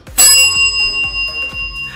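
A bright bell chime from the Magic Chess mobile game rings out with sustained tonal overtones, struck again several times in a steady rhythm, loud and close, with no talking over it.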